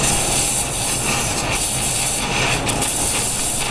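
Oxy-acetylene torch heating a rusted nut on a 1974 Jeep CJ5, a loud, steady roaring hiss held close throughout.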